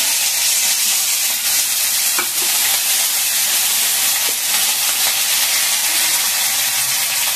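Ginger frying in hot oil with cumin seeds, a loud, dense, steady sizzle and hiss close by, continuous with faint stirring clicks and no talk.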